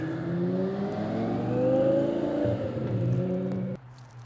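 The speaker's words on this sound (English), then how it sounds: "why is there a random twin turbo Gallardo flying down my block?" Twin-turbo Lamborghini Gallardo speeding down a residential street, a loud rising engine roar with shifting revs sustained for several seconds before dropping off abruptly as it passes.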